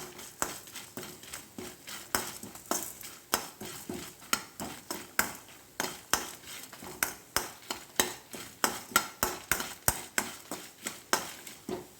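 A utensil stirring and scraping spices with asafoetida powder as they roast in a pan, close and rhythmic: repeated sharp scrapes about once a second, with a light sizzle between strokes.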